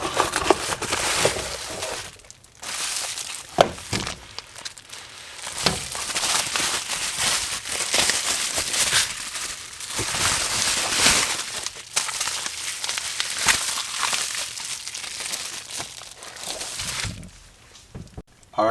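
Packaging for a Spoon Sports mirror set is torn and unwrapped up close, with long stretches of crinkling, rustling and scraping, some sharper crackles, and brief gaps between bursts.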